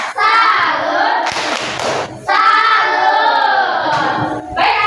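A classroom of children claps in short, loud bursts that alternate with long stretches of chanting in unison, forming a patterned group cheer heard close by.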